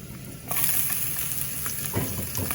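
Fennel seeds drop into a ladleful of hot oil in a pan, a sudden sizzle starting after a brief quiet moment and holding steady, with a utensil knock near the end.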